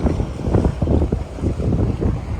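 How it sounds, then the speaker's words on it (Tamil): Rough sea waves surge against the shore beside the Cavalieri Art Hotel in St. Julian's, Malta, a loud, continuous churning rumble made heavier by strong wind buffeting the microphone. "கொஞ்சம் அலைய ஜாஸ்தியாகவே இருக்குது எல்லாம் வரைக்கும் வந்து அடிக்குது"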